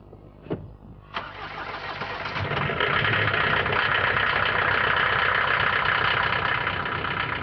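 A diesel Vauxhall Frontera Sport's engine cranks briefly, catches and starts, then settles into a loud, steady rattling diesel idle with no voices.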